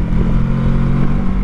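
A Kawasaki Versys 650 motorcycle engine pulls hard under acceleration, a steady, loud, close-up drone with no talk over it.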